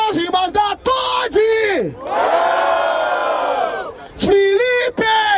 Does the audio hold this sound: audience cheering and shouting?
yes